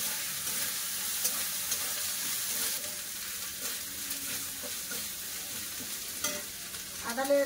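Ginger paste frying in a pan with cumin and a little turmeric, a continuous close sizzle with faint stirring scrapes and a brief clatter near the end.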